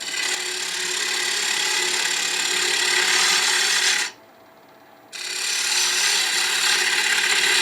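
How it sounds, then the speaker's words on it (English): A wood-turning tool making a pull cut on a spinning wooden napkin holder on a lathe, a loud, steady, close rasping shear that pauses for about a second and then resumes. "Just going to drop the handle, make a pull cut."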